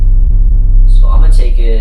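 Wobbling bass synth patch in FruityLoops, a loud, sustained low-heavy tone that throbs steadily while its upper harmonics sweep and open up partway through, heard alone without any talk.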